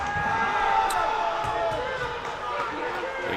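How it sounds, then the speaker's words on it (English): Crowd noise rising in a hockey arena after a big hit into the boards, a steady loud roar and murmur with a few sharp knocks heard over a commentator's voice. "Big hit in the boards. You can hear the crowd."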